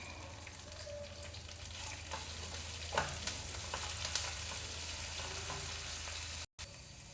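Curry leaves frying in hot oil as a faint, continuous crackle and sizzle with scattered sharper pops, close by and with no voices.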